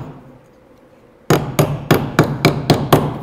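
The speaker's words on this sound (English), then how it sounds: "Put this on the middle of your wood and hammer it." A bent metal paint can handle is hammered into wood for a woodworking joint: quiet room tone, then seven sharp, loud hammer blows in a steady, evenly spaced rhythm, each ringing briefly.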